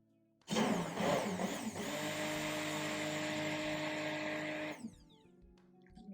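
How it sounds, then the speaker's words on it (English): A stick blender whirs loudly and steadily for several seconds mixing cold process soap batter, its motor droning close by before cutting off abruptly. "Even maybe one whisk with the stick blender to be really sure that everything is nice and well"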